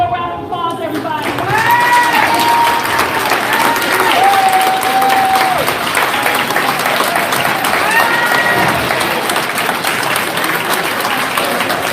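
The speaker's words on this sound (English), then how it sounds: "Give her a round of applause, everybody." A crowd at a community meeting gives a sustained round of applause, loud and continuous clapping with voices calling out over it.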